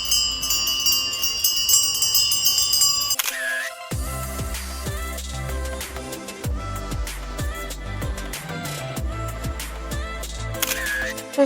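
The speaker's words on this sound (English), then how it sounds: "you can hear the bells from the cows and the sheep" Cowbells and sheep bells clang in an alpine town, a dense run of overlapping metallic strikes with ringing tones, steady and fairly close throughout.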